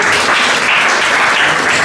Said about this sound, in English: round of applause for these two fierce competitors